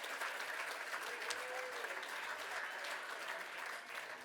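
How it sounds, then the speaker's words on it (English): Sustained audience applause fills a fundraising gala hall at the Building HOPE hybrid gala and live auction, a steady dense wash of many hands clapping that holds level throughout and eases slightly at the very end. "a huge round of applause for Brenda Kita, Kyle Ellerby, and Chris McDonald"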